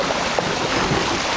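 A boat moving slowly across water gives a steady, close broadband wash with wind buffeting the microphone, continuous and without voices over its brief length.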